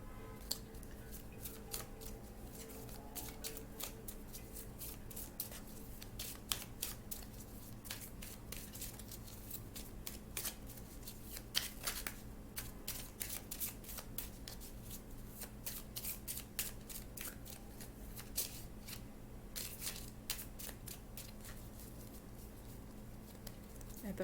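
Romance Angels oracle cards being shuffled by hand, a close, quiet run of crisp riffling and flicking that goes on steadily throughout, with soft talking at times.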